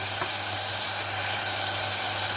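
Chickpeas and whole cumin sizzling in a pan over high heat, making a loud, steady, dense hiss throughout with a low hum underneath, close by and with no talking.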